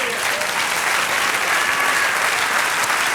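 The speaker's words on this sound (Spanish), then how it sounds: "Dale un aplauso al Señor" A church congregation claps for the Lord during a sermon, a dense, steady roar of many hands sustained throughout at a loud, even level.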